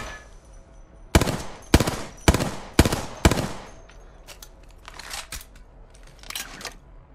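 Weapon fire in the video game Apex Legends: a rapid series of about five sharp, loud shots in quick succession, then a few lighter scattered cracks, with no talk over them.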